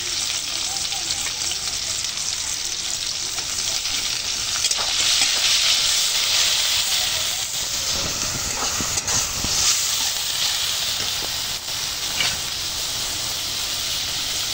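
Chopped garlic hits a pan of frying onion for a soybean and chicken curry, giving a continuous, close, crackling sizzle with occasional stirring scrapes throughout.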